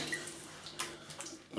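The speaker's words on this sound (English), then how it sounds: "let's have a quick rinse." Water splashing as a face is rinsed after a traditional wet shave, with faint, brief splashes and trickles at close range in a quiet room.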